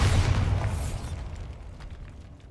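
A Bombarda explosion spell in the Hogwarts Legacy video game bursts with a loud, booming blast that rolls off into a decaying rumble, heard alone without talk.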